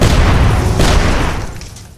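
A machine gun blown apart in an explosion during a boss fight in the video game UnMetal, a loud broadband boom that sustains for over a second and then fades away, with no voices.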